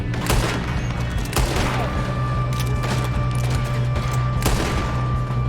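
Gunfire in a shootout in the video game Red Dead Redemption 2, several sharp loud shots spaced irregularly over a constant low droning background.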